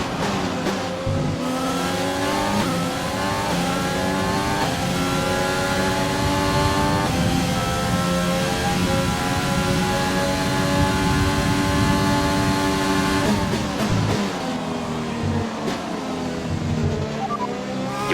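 A McLaren Formula 1 car's engine screams steadily at high revs in the F1 2020 racing game, dipping briefly around gear shifts before climbing again, loud and continuous with no one talking.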